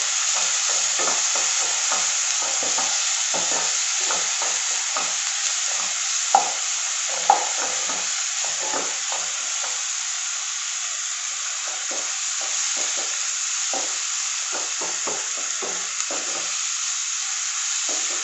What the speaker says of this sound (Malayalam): 1 സ്പൂൺ വെളുത്തുള്ളി ഇഞ്ചിയും പേസ്റ്റ് ഇട്ട് കൊടുക്കാം. അതൊന്ന് അതിൻ്റെ പച്ചവാസന മാറുന്ന വരെ ഇളക്കി കൊടുക്കാം.